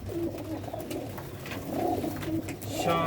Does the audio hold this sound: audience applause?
no